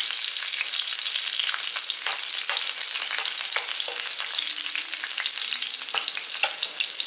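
Garlic sautéing in oil over a low flame makes a steady close sizzle, broken by repeated light scrapes and taps of a spoon stirring in the pan.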